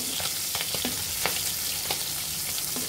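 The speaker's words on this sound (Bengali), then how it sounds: "মাছগুলো খুব হালকা পরিমাণের মতো ভেজে নিতে হবে, পুরোপুরি ভাবে ফ্রাই করা যাবে না" Small puti fish fry lightly in hot oil in a pan, a steady close sizzle with scattered pops and spatters throughout.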